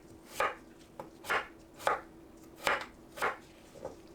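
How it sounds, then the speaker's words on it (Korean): A knife chops a trimmed green cucumber (chwicheong variety) into thin strips on a board, with six crisp, evenly spaced cuts sounding close and clear with no talking. "가운데 물컹한 부분을 손질하고 채 썰어주세요."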